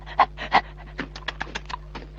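Dog panting in quick, rhythmic breaths, close and fairly loud at first, then softer and more irregular, with no talk over it in a Tamil comedy scene.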